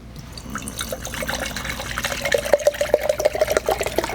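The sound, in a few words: water poured into a camping stove pot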